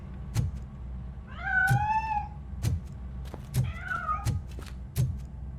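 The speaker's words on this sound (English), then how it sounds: "That cat must be hiding inside." A cat meows twice in the video game RoboCop: Rogue City, drawn-out rising-and-falling cries over a low background hum, punctuated by regular soft thumps.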